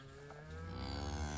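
Cattle on a farm of mixed breeds such as Black Angus, Simmental and Hereford give one long, low moo that swells louder, close and alone.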